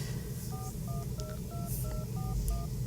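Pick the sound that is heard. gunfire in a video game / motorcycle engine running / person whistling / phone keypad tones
phone keypad tones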